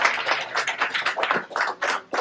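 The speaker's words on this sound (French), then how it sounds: "j'invite Amélie Pierron, Media Activation Leader, à nous rejoindre sur scène sous vos applaudissements" An audience at an evening gaming industry event claps to welcome a speaker onto the stage, with a moderate cluster of distinct handclaps nearby and no talking.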